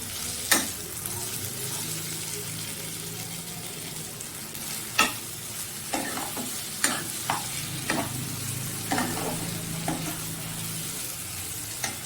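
Tomato paste with cumin sizzles softly in a pan while a spoon scrapes and stirs in irregular clicks and knocks over the steady frying crackle.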